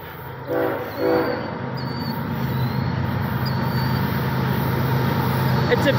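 A BNSF mixed freight manifest train rolls through the town of Callao, Missouri, a steady rumbling drone building and holding loud, with a couple of brief horn-like tones near the start.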